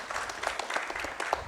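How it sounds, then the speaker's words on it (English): Audience applause at a live music event, a steady dense wash of clapping with scattered sharper claps, sustained evenly throughout without talk. "a huge round of applause to Adamya Ramanand."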